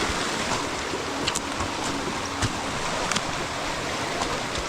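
A small creek waterfall on the Gidjuum Gulganyi walk at Whisky Creek Falls in NSW, Australia, a steady broadband rush of falling water close by with occasional splashes.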